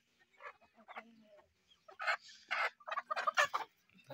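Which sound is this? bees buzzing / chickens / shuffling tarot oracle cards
chickens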